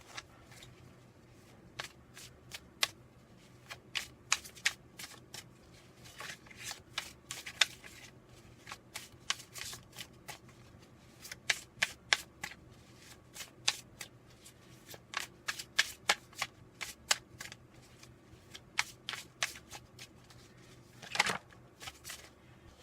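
Tarot card deck being shuffled by hand, a long run of crisp riffling and flicking card sounds in irregular bursts, close and clear over a quiet room.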